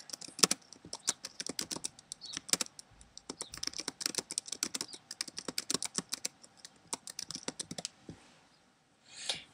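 Rapid keyboard typing clatters steadily at close range, a dense run of light clicking keystrokes that tapers off near the end.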